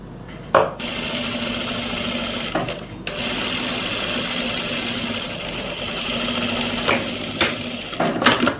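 A sewing machine runs steadily, stitching the fitted sleeve seam of a flared kurti. A few brief clacks and stops break the whirring, which stays close and loud with no talking.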